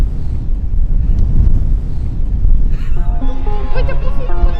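Strong wind of roughly 40 to 50 km/h buffets the microphone on an Icelandic clifftop, a loud, constant low roar; partway through, seabird calls rise above the rumble.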